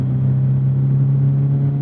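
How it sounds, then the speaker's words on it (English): A Mazda Miata ND3 fitted with an MXP catback exhaust drones loudly and steadily at high revs on a race track, a close, sustained engine rumble with no talk over it. "this car is a lot louder than mine because of the MXP catback exhaust"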